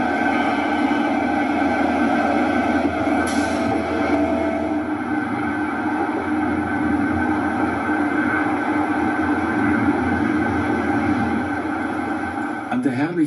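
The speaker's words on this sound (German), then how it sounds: "An der herrlichen Kulisse von Rapperswil vorbei überquert der Zug den Zürichsee auf dem 931 Meter langen Seedamm." A train rolls across the lake causeway near Rapperswil with a steady, loud rumble and hum of wheels and carriages that continues unbroken, with a brief high squeal near the end.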